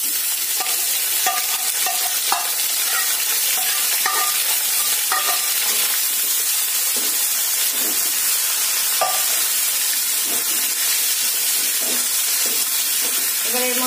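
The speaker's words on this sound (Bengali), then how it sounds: "এবার এই সিদ্ধ শিঙি মাছগুলো দিয়ে দেব।" Boiled singi fish sizzles and fries with garlic in a pan. A steady, loud hiss runs throughout, broken by scattered clinks and scrapes of stirring, with no voices.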